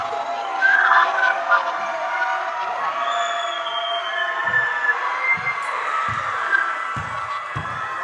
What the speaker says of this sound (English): The fans are here. They're loud. They're proud.